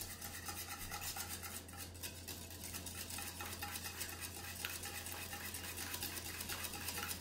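Egg yolks and milk for popover batter are beaten in a bowl, a continuous fast scraping and clinking whisk rhythm over a steady low hum, with no talking.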